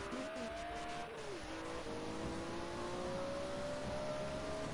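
BMW M1 Procar race car lapping Spa from onboard, engine revving and shifting through gears with a brief downshift blip, loud and continuous, the exhaust note climbing steadily as it accelerates.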